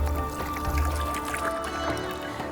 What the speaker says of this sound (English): Just rinse my hands once.